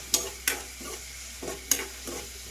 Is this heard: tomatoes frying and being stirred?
yes